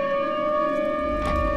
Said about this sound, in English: let's put down tornado siren